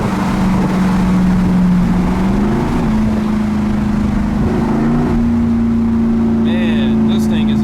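A 900-horsepower twin-turbo Ford F-150 pickup accelerates with a loud, steady engine drone. Its pitch climbs in a couple of small steps and it is heard up close throughout.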